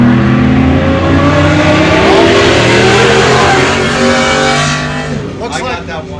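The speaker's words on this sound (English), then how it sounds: "You can hear them revving their motors." Several competition race truck engines at the High Desert 100 in Powell, Wyoming rev loudly and continuously close by, a dense roaring drone with rising and falling pitch as throttles are blipped.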